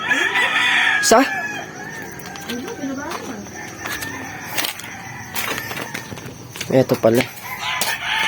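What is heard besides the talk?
rooster crowing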